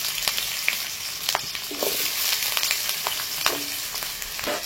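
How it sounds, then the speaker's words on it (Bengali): Diced potatoes fry in hot oil with a steady, close sizzle and scattered sharp crackles and pops, unbroken and without any voices. "আলুটাকে সম্পূর্ণ লাল করে ভেজে নেব।"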